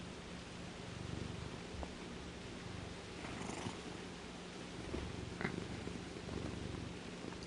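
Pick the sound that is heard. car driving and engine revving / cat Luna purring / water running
cat Luna purring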